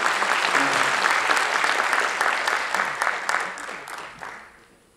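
A party crowd at a fitness-industry event claps loudly in a full, rippling burst that gradually thins out and fades toward the end.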